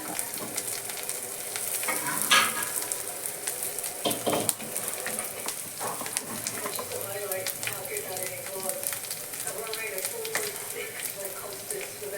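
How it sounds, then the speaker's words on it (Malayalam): Ground coconut paste being stirred into tender banana leaf thoran frying in a pan: steady sizzle with scraping spoon strokes and a couple of sharper knocks, close up, while a voice talks over it. "നമുക്കൊന്ന് ഇളക്കി കൊടുക്കാം"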